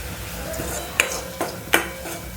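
A spoon stirs coriander-cumin powder and salt into an onion mixture in a pan, with a low sizzle under three distinct metallic scrapes and clinks against the pan, close by.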